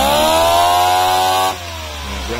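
Small engine running loud and close, its tone sweeping upward as it revs hard, then dropping back to a lower, steadier run near the end; a raspy, chainsaw-like buzz with no talking.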